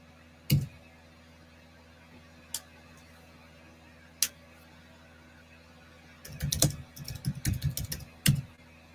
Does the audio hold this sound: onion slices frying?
no